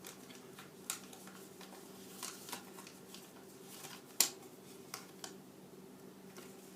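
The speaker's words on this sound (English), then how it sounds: "make sure you fold along this X." Origami paper being folded and creased along a fold line, with soft crinkles and a few sharp crisp snaps, close and fairly quiet in an otherwise still room.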